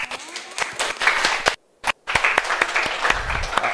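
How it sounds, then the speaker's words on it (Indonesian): Students in a classroom applaud their classmates' answer, with dense, lively clapping that briefly cuts out before resuming. "jawabannya kita aplaus untuk jawaban mereka"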